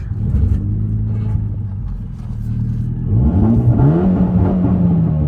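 A Mitsubishi Lancer Evolution X engine running as the car pulls off, a loud close low hum that swells into rising revs partway through, with cabin rumble and no speech.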